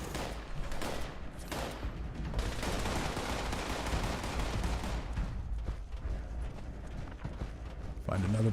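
Rapid gunfire and mechanical clatter from the Fallout 76 video game fill a dense, steady stretch of combat, with bursts of shots rising and fading throughout.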